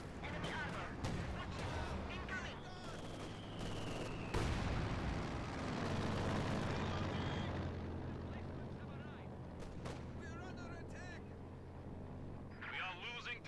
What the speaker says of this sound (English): Mortar is also there to support.